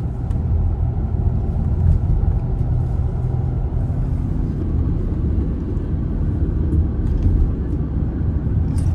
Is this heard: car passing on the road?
yes